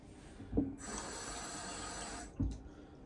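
Water pours into a measuring cup on a kitchen bench for focaccia dough: a steady splashing stream of about a second and a half, framed by two soft knocks of the cup.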